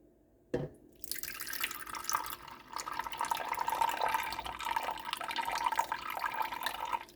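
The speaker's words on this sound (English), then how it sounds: "I am gonna put a little bit of water." Water poured from a tap into a pot of corned beef being stewed, a steady splashing fill following a sharp knock at the start, continuing without talk.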